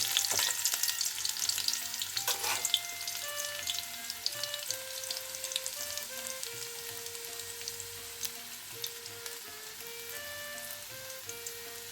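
Chopped garlic frying in oil before moringa leaves go in gives a soft, steady sizzle with occasional stirring clatter, beneath quiet melodic background music, no talking.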